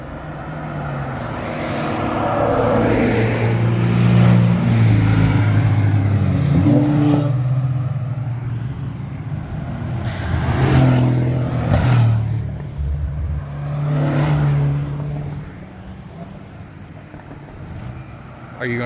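Cars driving past on the Tail of the Dragon mountain road, engines swelling loud as each vehicle approaches and fading away, several passes in a row with voices talking over them.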